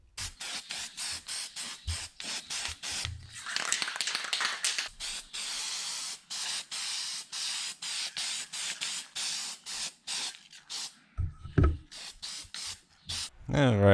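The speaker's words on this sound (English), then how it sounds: "here we're using an aerosol primer, another Harbor Freight filler primer I always use" Harbor Freight aerosol filler primer sprayed onto a station wagon rocker panel, a run of short rhythmic hissing bursts with one longer continuous spray, close and fairly loud, a few clicks near the end.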